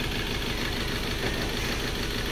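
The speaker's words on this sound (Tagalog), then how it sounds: "Pakinggan yung mabuti ang andar ng makina ngayon. Halatang halata naman na nagtuya-tuya ang andar ng makina." A Ford Ranger 2.2 diesel engine with low power runs rough, a steady, close, loud idle with uneven knocking pulses throughout and no talk over it.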